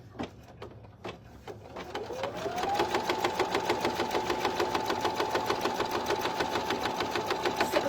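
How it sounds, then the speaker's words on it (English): An embroidery sewing machine stitches satin around an appliqué with a fast, steady mechanical chatter that builds over the first seconds and then runs evenly and close, with no talk. "It's 9 minutes we get to hang out while the machine stitches."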